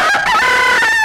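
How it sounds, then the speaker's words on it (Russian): A rooster crows on a farm in a single clear, loud, drawn-out call with a rising, wavering pitch, close by and with no voices. "Эх, давно я петухов не слышал."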